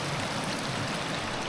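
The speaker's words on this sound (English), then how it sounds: "We've had so much rain, the water's just coming out of the ground." Rainwater trickles and gushes out of the ground and between rocks on a Peak District walk near the Monsal Trail, a steady close watery rush with no voices.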